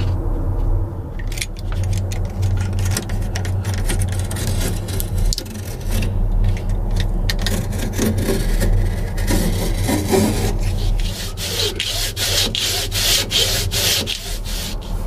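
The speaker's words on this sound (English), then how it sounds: "Let's get this trimmed off right now, sand it up" Fibreglass tabbing on a honeycomb structural panel is trimmed and sanded: continuous loud rasping and rubbing strokes over a steady low hum, with bursts of scraping and clattering, and no talk.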